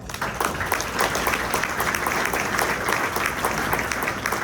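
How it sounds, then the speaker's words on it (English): Audience applause fills a graduation ceremony hall, a steady dense clapping from a large crowd that holds an even level throughout without pause. "So let's give them a round of applause"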